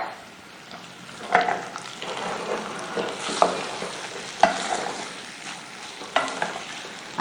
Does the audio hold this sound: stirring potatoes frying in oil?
yes